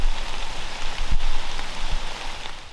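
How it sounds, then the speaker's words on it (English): Heavy rain pours down steadily during a hunt, with a dense hiss of drops drumming on a covering and a couple of brief close knocks, loud and continuous with no voices. "It was just pouring down rain. It wouldn't stop."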